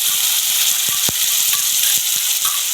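Onion with cardamom, cinnamon, cumin and bay leaf sizzles in a hot pan, a bright continuous frying hiss broken by soft, irregular clicks of a spatula stirring.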